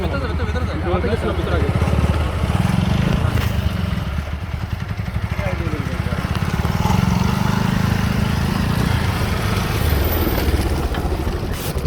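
A motorbike rides through the grounds of an old historic house, its engine a continuous close rumble that rises and falls, with people talking over it throughout.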